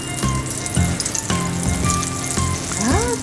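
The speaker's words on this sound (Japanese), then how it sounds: "ジュージューなっておりですよ。" French toast frying in a pan gives a steady close sizzle with crackling bursts, and a short rising tonal squeal comes near the end.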